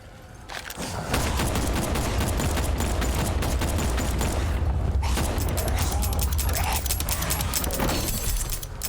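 Dense rapid gunfire and metallic mechanical clatter from the Batman: Arkham Knight video game, loud and continuous for several seconds with no voice over it.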